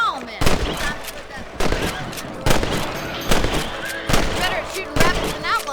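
Gunfire in the video game Red Dead Redemption as rabbits among farm crops are shot, six sharp loud blasts spaced roughly a second apart, each followed by a short ringing tail.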